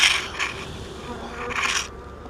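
Honeybees buzzing at a hive during queen emergence, a close droning hum swelling twice and fading, without speech.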